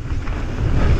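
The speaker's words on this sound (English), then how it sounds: "My gosh, it's windy." Heavy wind buffets the microphone on a mountain bike trail at Glentress, Scotland, with a steady low rumble, loud and continuous for about a second, with no talking.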